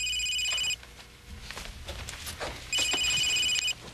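A cell phone rings with a loud, high electronic ringtone in two bursts, separated by a gap of quieter movement and background sound.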